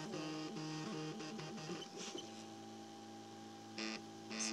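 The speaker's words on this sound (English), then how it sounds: "Like a little motor thing. Oh, that's a whole series of motors. Sounds nice too." A Printrbot Simple 3D printer runs its first calibration print, its stepper motors singing stepped, shifting tones in quick sequences over a faint mains hum.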